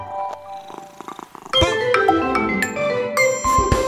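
A kitten meows a few times in short, soft cries, then brighter chiming children's nursery-rhyme music with a steady beat takes over.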